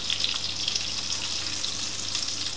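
Pork schnitzel sizzles steadily in a frying pan over medium heat, a close, even crackle and hiss that continues throughout with no talk.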